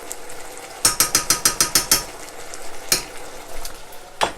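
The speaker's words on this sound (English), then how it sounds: "I'm just gonna stir that around just a little bit." A spoon stirs tomato paste into an Iraqi okra stew in a pot, a quick run of about eight rhythmic scraping strokes followed by a few scattered knocks and scrapes over a low simmer, close and alone.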